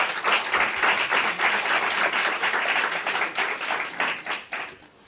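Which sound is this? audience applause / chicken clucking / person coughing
audience applause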